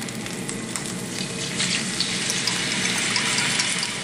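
Gravy cooking in leftover grease from frying Swedish meatballs, a steady close sizzle and bubbling with a faint watery hiss that swells slightly louder midway, with no talking.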